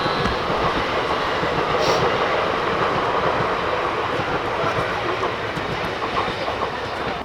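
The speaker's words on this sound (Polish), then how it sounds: "O, jedzie pociąg!" A train rolls past close by, a steady, loud rumble with rhythmic clickety-clack from the wheels lasting the whole stretch, with no talking.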